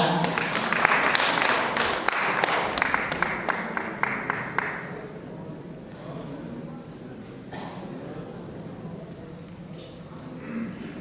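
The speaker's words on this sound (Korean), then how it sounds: "뜨거운 박수 부탁드리겠습니다" Audience applause for a poetry recitation at a broadcaster's opening ceremony, loud at first with distinct claps, then thinning and fading over about five seconds into a quieter room with a few stray claps and some talking.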